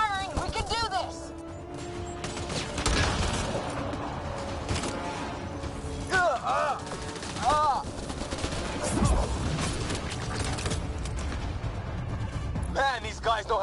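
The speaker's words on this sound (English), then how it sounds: "Just keep firing." Dense video-game gunfire from the sci-fi shooter Mass Effect: Andromeda, a steady barrage of shots and bursts with explosions mixed in, loud and continuous, while characters shout over the combat.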